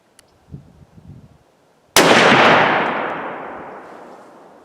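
A single sharp gunshot from an S&S drilling firing a handloaded 8x57JR round cracks out loudly outdoors and decays into a long rolling echo, preceded by faint handling noises.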